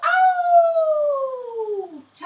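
A person imitates a wolf howl during the wolf pose of a children's yoga session, producing a single long, loud, clear howl that slides slowly downward in pitch before breaking off.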